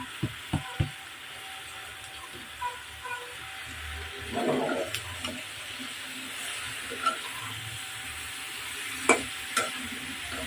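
Bitter gourd and potato fry in a pan, a soft steady sizzle and hiss punctuated by a few sharp knocks early on and occasional stirring clatters, close by with no voices.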